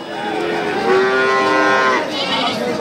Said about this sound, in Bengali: অনেক সুন্দর একটি নেপালি ষাড় বাছুর